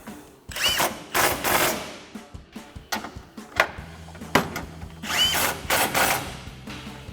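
Bolts on a GMC Sierra 1500 bumper being tightened with an 18mm swivel socket, heard as several close bursts of ratcheting and whirring separated by brief pauses and light clanks.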